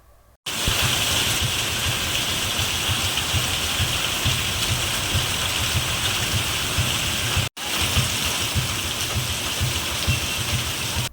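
Heavy downpour in Dwarka, Gujarat, a loud, steady roar of rain hitting surfaces that runs continuously throughout, broken only by two brief cuts.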